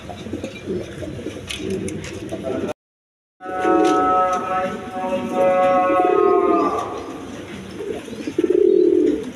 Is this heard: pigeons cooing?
yes